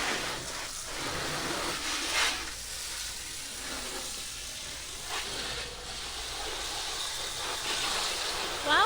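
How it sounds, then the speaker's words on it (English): A garden hose nozzle rinses a Ford Bronco with a steady hissing spray of water. The spray is fairly loud and continuous, with brief surges and splashes throughout. "this, folks, is how you rinse the Bronco"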